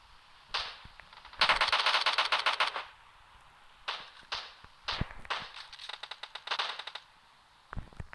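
Rapid bursts of gunfire crackle in a video game, short rattling volleys and single shots spaced irregularly, fairly loud with quiet gaps between them.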